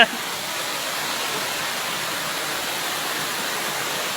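A forest waterfall pours in a steady, dense roar of falling water, broad and unbroken throughout, close and fairly loud with no other clear sounds.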